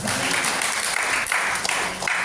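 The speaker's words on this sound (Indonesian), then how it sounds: "Tepuk tangan buat Tuhan." Loud sustained applause from a church congregation, dense clapping filling the whole moment with no speech over it.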